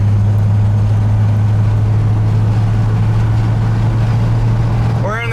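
Carbureted junkyard Bullnose Ford truck engine on a test drive, a loud steady low drone with a strong hum and road rumble holding level throughout, a short chirp at the very end.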